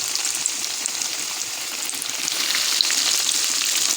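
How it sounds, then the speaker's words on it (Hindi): Frozen samosas fry in hot oil with a dense, steady sizzle that holds close and even throughout, swelling slightly toward the end, with no talking. "अब मैं इनको फ्राई कर लूँगी।"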